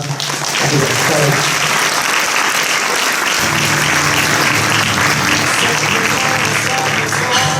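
Audience applause at a charity concert held at a primary school in Domžale: loud, dense, sustained clapping filling the whole stretch, with a steady tonal hum entering partway through.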